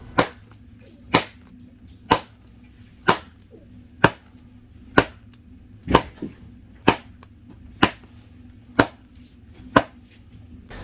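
A ball smacks into the pocket of a Louisville Slugger TPX Evolution EV1175 leather baseball glove about once a second, a dozen sharp, close pops in a steady rhythm with no talking.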